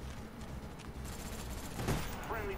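Gunfire in the Black Ops video game, rapid bursts of shots crackling over a busy game soundscape, with a player talking over the action.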